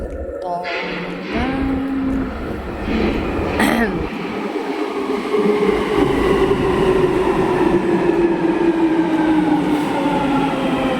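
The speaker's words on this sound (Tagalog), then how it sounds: "The train is coming again." A train pulls into Westminster station in London, its rumble and rail noise building steadily and filling the platform at close range for several seconds, with faint voices in the background.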